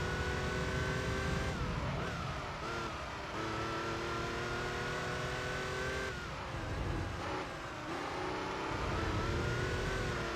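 A Porsche engine in the racing game Gran Turismo 3 revs hard with rising and falling pitch through gear changes and brief lifts, loud and continuous with faint tire squeal and no talking.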